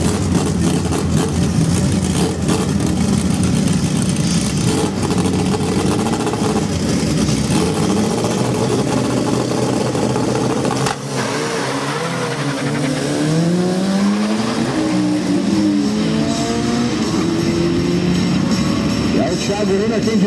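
VW Gol square-body drag race cars, one white and one silver, accelerating hard down the strip, a loud sustained engine roar with rising revs and a shift partway through, under continuous excited commentary.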